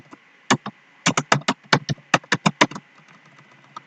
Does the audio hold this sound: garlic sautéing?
no